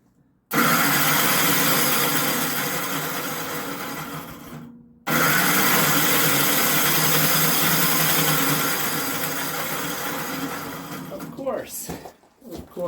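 A Gravely snow blower runs with a slipping clutch: a loud, harsh, steady mechanical roar cuts out briefly, starts again, then gives way to rattling and knocking near the end.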